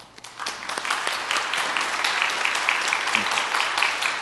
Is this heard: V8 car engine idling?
no